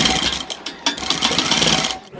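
A sewing machine stitches a gents kurta in a steady close run that halts briefly twice before running on, and the needle stops down at the fabric edge near the end.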